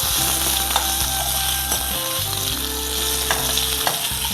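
Green mango pachadi simmers in a pan on a home stove, a steady close sizzle and bubbling frying sound running continuously with a few faint clinks of a utensil, no voices.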